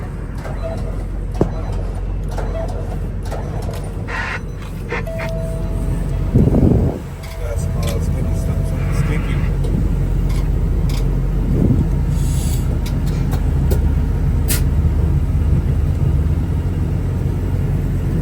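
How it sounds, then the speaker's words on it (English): A semi truck rumbles deep and steady after a jump start, with a brief heavy surge midway as the engine nearly catches before it settles back into the drone. "Let's see if the truck starts"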